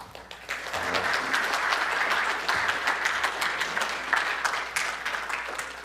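Audience applause greeting a speaker as he comes up to open a talk on Mount St. Helens, a steady wash of many hands clapping that swells quickly and holds at moderate loudness throughout, with no voices over it.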